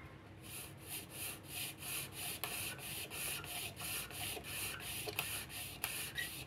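A thin steel wire sawing through material by friction, hot enough to smoke, gives a steady rhythmic rasping with regular back-and-forth strokes, fairly faint and close, with no talking.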